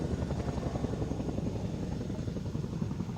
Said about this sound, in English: Chinook has the performance to maintain flight of the aircraft safely onto the ground when engine output is limited